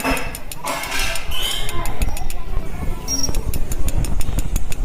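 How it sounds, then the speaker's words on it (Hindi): A metal file taps repeatedly on the rod of a ceiling fan during bearing repair, making a fast series of sharp, close metallic knocks and clinks, with a voice talking underneath. "इसी तरह रेती से आपको ठोक कट मार लेना"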